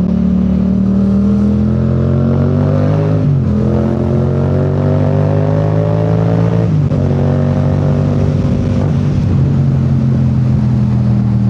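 A very loud motorcycle engine with its exhaust silencer removed revs hard and raw, its pitch rising and dropping in repeated surges, close and unmuffled.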